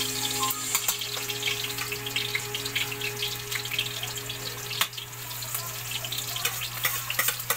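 Garlic and onion sautéing in a pan give a steady, close sizzle and crackle over a low constant hum, with no one speaking.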